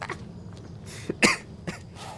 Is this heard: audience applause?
no